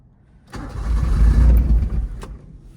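A Suzuki Mighty Boy engine is cranked over, a sustained low rumbling churn that swells for about two seconds and then fades without clearly catching, with no talk over it.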